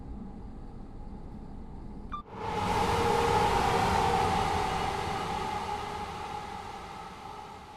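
A train in the Train Sim World 4 video game rolls along with a broad steady rumble that swells suddenly and stays loud, then eases slightly, with no talk over it.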